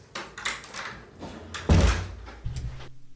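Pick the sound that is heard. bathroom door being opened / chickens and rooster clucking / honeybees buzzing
bathroom door being opened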